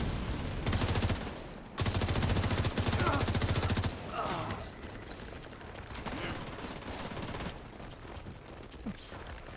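Bursts of rapid automatic gunfire in a video game, two loud sustained volleys followed by quieter scattered shooting, with a person talking over the fighting.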